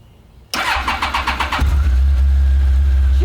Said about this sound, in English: We'll turn the key on, put on the clutch, see if it starts.